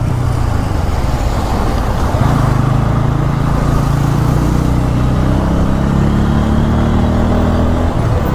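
A motorcycle engine drones steadily close by on a road, a low hum that shifts pitch slightly as it passes, with traffic noise around it.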